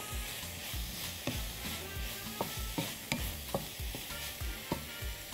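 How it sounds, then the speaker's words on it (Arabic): Onions sauté in a frying pan with a steady sizzle, while a utensil scrapes and stirs with short, regular knocks against the pan. "ادبل البصل ثواني"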